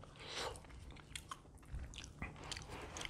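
Close, wet chewing and crunchy bites of a whole Dungeness crab from a seafood boil, several irregular mouth sounds and cracks at low volume with no talking.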